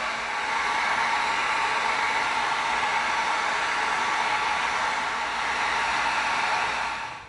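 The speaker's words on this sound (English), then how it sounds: "we're going to come in with the heat gun, and we're going to heat this up" A heat gun blows hot air onto creased EVA foam, a continuous loud, even rushing hiss that holds steady throughout and cuts off at the very end.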